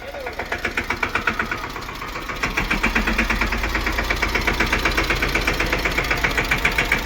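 A tractor engine runs in a cotton field with a steady, close, rhythmic chugging knock that grows louder after the first couple of seconds, while voices can be heard under it.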